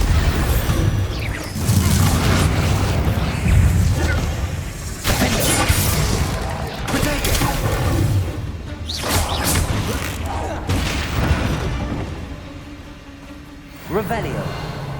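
Bombarda blasting spell explosions in the video game Hogwarts Legacy: loud, dense booms and crashing impacts keep coming through the whole stretch, with a fresh sharp burst near the end.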